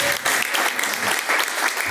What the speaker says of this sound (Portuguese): Vamos receber o pastor local com palmas bem fortes.